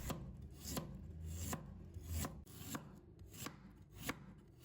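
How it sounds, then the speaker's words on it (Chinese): A knife slices peeled ginger rhythmically against a cutting board, about a dozen crisp, evenly spaced strokes close by, with no talking. "准备1块去了皮的生姜，切成薄片"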